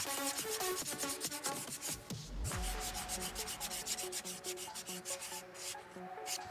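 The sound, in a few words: sanding horns with a Dremel rotary tool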